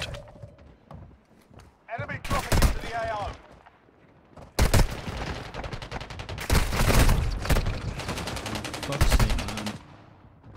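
Bursts of automatic gunfire in the mobile shooter Warzone Mobile, loud rattling volleys arriving in several separated clusters, with a player's voice talking over the shooting.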